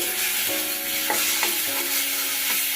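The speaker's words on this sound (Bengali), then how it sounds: "তেলের মধ্যে আমি পেঁয়াজ বাটাটা দিয়ে দিয়েছি" Onion paste sizzling in hot oil for a fish curry, a steady broadband fry with a few spoon-stirring scrapes, close and continuous with no talk.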